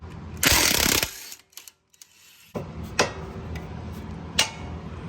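A ratchet on the 17 mm end link bolt of a 2010–2016 Hyundai Genesis Coupe during a lowering spring install gives a loud, rapid clicking burst, a pause, then a few separate ratchet clicks close to the mic.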